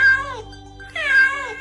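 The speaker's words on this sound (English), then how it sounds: "It's a cat." A cat meows twice, two clear, drawn-out calls close by with a short pause between them and nothing else audible.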